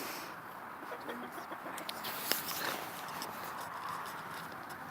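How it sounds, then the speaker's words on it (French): Hens cluck softly in an open yard over steady outdoor background noise, with occasional sharper calls and scattered small knocks. "Donc là c'est ma cour avec mes poules."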